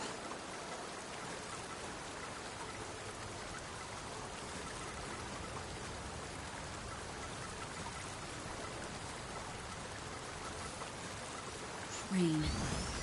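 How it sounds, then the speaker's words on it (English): Mild drizzle falling in the video game Synduality: Echo of Ada, a steady, even patter of rain that holds unchanged throughout at moderate level, with a short louder thump near the end. "Rain. Looks like a mild drizzle."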